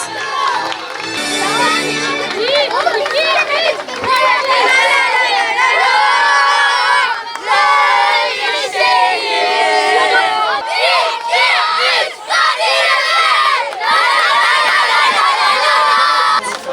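Parents and children cheering, shouting and clapping at an awards ceremony for youth U11–U12 football teams, a loud, sustained crowd roar with excited children's voices throughout.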